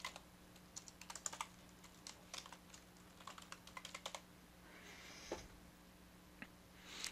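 Keystrokes on a computer keyboard enter a username and then a password, in short bursts of light, close clicks over a quiet, steady hum, with a brief hiss and a final key press near the end.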